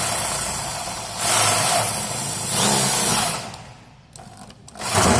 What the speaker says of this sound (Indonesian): kita langsung bor masuk ke kusen pintunya oke kita bor